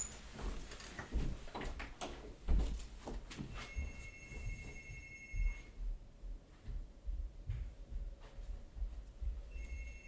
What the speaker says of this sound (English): the phone is ringing, everybody, at my house